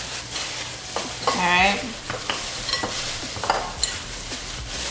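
Short ribs being tossed with pepper, salt and bacon, heard as wet shuffling and clacking of utensils in a dish against a steady background hiss, with a brief word spoken.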